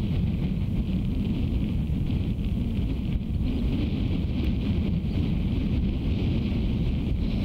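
Strong gusts buffet the microphone on an exposed Cornish golf course at Merlin Golf Club, a loud continuous low roar of wind noise that fills the whole stretch with no let-up and no talking.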